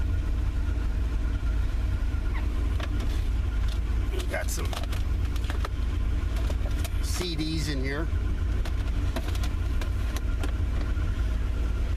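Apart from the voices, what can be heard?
1978 Corvette engine running after winter startup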